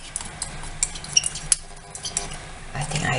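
Tortilla dough of flour, baking soda, baking powder and salt is stirred in a bowl, giving light scattered clinks and scrapes of a utensil against the dish, close and intermittent.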